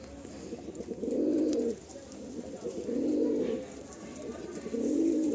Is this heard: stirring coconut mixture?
no